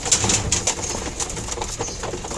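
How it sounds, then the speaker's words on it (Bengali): Domestic pigeons coo softly while gathered for their morning feed, several short cooing calls near the start over a soft background of pecking and fluttering, with no talk. "দেখবেন কী সুন্দর খায় পায়রাগুলো"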